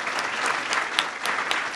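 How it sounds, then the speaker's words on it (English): Steady applause from a debate audience at a Virginia congressional district House debate, a dense even patter of many hands filling the room without pause. "let's give Dr. Bob Holsworth a round of applause as well"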